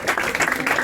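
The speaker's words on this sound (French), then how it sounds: "on peut tous les applaudir" Short burst of crowd applause for competitors at an oyster-opening championship in a Montmartre venue, brisk clapping heard close and fairly loud for under a second.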